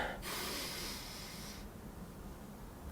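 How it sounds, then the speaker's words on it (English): A single deep breath drawn in from the diaphragm during a golf-practice breathing exercise, a soft airy inhale lasting over a second, close and fairly faint, then fading to quiet. "Breathe in from the diaphragm"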